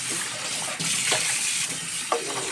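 White corn kernels washed in water: a steady splashing, gushing wash with a few soft knocks, close and fairly quiet.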